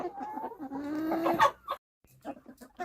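A hen clucks and croons in a rising, warbling run close by, then falls quiet before a few soft clucks return.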